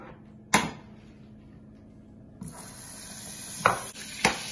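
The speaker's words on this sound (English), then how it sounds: "So we'll start by putting the butter in the pot." Butter melts in a pot on the stove as a base for brown sugar caramel for a pineapple upside-down cake. A soft, faint hiss begins partway through, set among a few close knocks and clanks of the pot and utensils.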